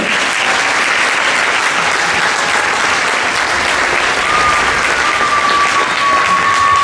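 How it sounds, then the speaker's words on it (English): Loud, sustained audience applause for the percussion section at a school spring band concert, a dense continuous roar of clapping from a large crowd, with a faint whistle rising near the end. "we're going to give them a round of applause"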